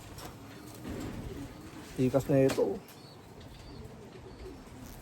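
A blue bar racing pigeon coos in a short, close series of soft, low notes that rise briefly above quiet background noise, while a voice speaks faintly before and after.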